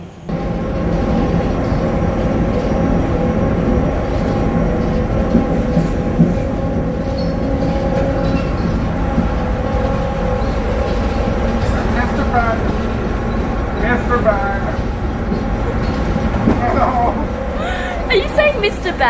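A train rolls steadily along the rails with a continuous rumble and faint clatter, with occasional higher squeals toward the end, while people talk over it.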